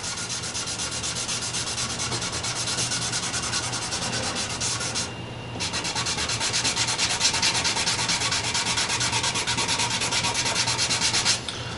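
Angelus leather dye rubbed in coats onto a wooden workpiece, a continuous close scrubbing rasp with a short pause midway before the strokes resume, with no voices.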